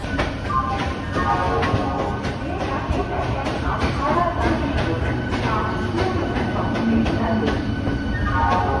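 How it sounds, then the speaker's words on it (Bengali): The 13017 Ganadevta Express rumbles steadily close by, departing Howrah platform 7, wheels clacking in a continuous rhythm, with faint voices in the background. "হাওড়ার 7 নম্বর থেকে ছেড়ে বেরোচ্ছে এই মুহূর্তে 13017 গণদেবতা এক্সপ্রেস"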